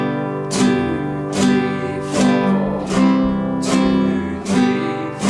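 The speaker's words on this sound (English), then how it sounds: "I'm just going to give it a real simple strum to start with" Acoustic guitar strumming the simple chords of Twinkle Twinkle Little Star, six evenly spaced downstrokes that ring into each other, close and clear, with no talking.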